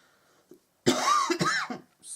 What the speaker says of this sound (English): So sorry about this cough.